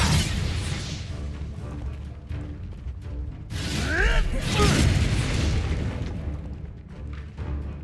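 A fiery Incendio spell blast in Hogwarts Legacy lands as a booming, crackling burst with a rising whoosh, loud and close amid ongoing combat noise.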